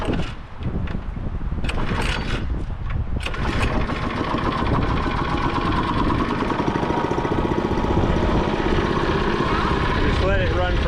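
A race car engine sputters into life after being choked, then settles into a steady, loud, close running drone, with people speaking over the start.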